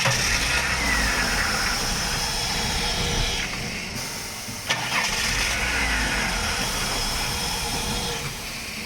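Car engine with a fuel problem cranking for a long stretch, briefly catching and then cutting out, loud and close, with a second cranking attempt after a short break.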